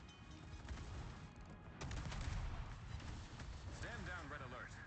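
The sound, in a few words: naval gunfire in the video game World of Warships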